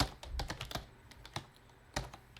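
Keys clatter on a computer keyboard as a terminal command is typed, with quick clustered clicks, a few pauses and a late burst of strokes, fairly close and quiet with no talking.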